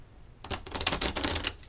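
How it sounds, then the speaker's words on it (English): A deck of tarot cards is shuffled in one quick riffling burst of dense papery flutter, close and fairly loud, lasting about a second and then stopping abruptly. "I'm going to shuffle 2 times for my air signs"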